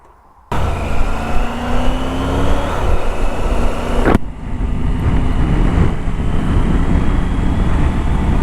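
A motorcycle rides off after a sudden start. A steady, moderately loud engine note is layered with wind rush, and the sound changes abruptly partway through.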